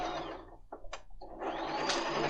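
A Bernette b33 sewing machine stitches a 3-step zigzag with a steady motor whir and rapid needle chatter up close, pausing briefly before it starts running again.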